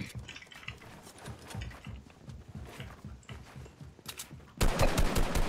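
Rapid in-game gunfire rattles in quick repeated bursts throughout, closing in a louder, denser volley.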